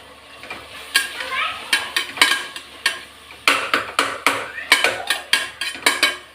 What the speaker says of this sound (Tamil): புதினா அதையும் போட்டு வதக்கிக்கலாம்.